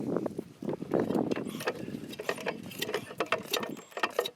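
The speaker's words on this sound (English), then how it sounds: "This is very shade tree to use pliers on bolts" Pliers turning bolts on an antique gas engine, giving close, fairly quiet mechanical scraping and clicking with irregular metallic ticks over several seconds, with no talk.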